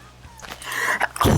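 A single sneeze, a short breathy build-up followed by a sharp loud burst at the end, close to the microphone.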